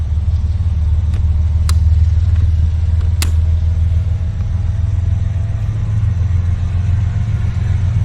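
A coal train locomotive throttling up, its deep engine rumble steady and loud throughout with a couple of brief sharp clanks over the drone.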